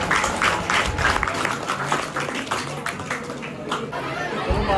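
Audience clapping in a college seminar hall, a sustained round of applause mixed with crowd chatter, fairly close and loud, rising and settling over a few seconds.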